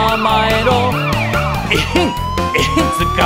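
Police car siren rising and falling through a cheerful children's cartoon song, looping wails over a steady bouncy musical backing, close and loud throughout.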